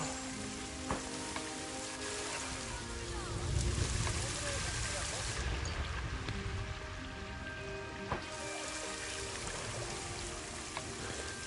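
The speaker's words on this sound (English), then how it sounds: "I think it just started raining." Steady rain falling in the Planet Zoo console game, a dense hiss of drops on surfaces running throughout at moderate level, with a low rumble swelling briefly near the middle.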